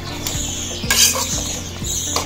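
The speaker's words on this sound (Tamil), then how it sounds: "சேர்த்துட்டு நல்லா இப்படி கிண்டி விட்டுருவோம்." A spoon scrapes and stirs turkey curry in a metal cooking pot, repeated rhythmic strokes over a steady sizzle, close and clear with no talking.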